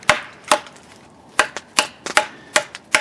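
An Esee 6 HM knife chops in a series of about eight sharp, close strikes at an irregular pace, each a crisp woody crack with quiet gaps between and no talking.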